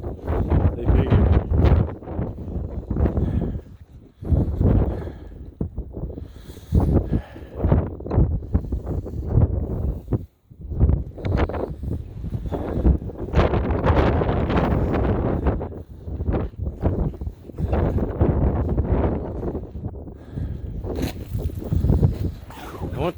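Strong blizzard wind buffets the microphone in loud, roaring gusts that rise and drop with brief lulls, with rustling close to the mic and someone talking at times.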